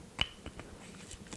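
A quick metallic snap from a pen's spring followed by a few faint springy clicks and taps, close up and brief.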